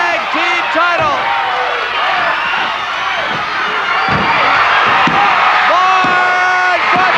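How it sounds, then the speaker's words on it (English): A loud wrestling arena crowd roars and cheers without a break through a tag team title main event, with whistles and shouts rising from the dense wall of noise. "Listen to the crowd."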